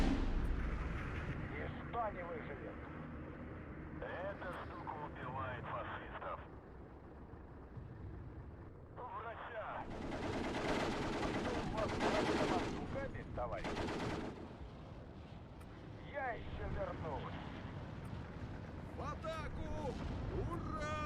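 Artillery fire in the WW2 strategy game Steel Division 2, with repeated booming blasts and rumbling barrages, loud and sustained under someone talking throughout.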